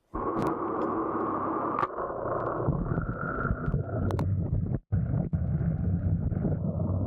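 Motorboat fitted with a Sharrow propeller running steadily nearby, a continuous broadband engine and water rush mixed with wind buffeting on the microphone, cutting out briefly for a moment partway through.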